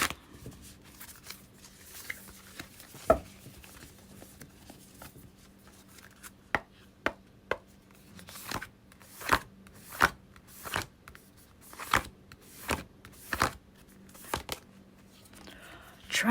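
Tarot cards being shuffled in a series of quick riffling bursts, getting more frequent toward the end, with a faint steady hum underneath.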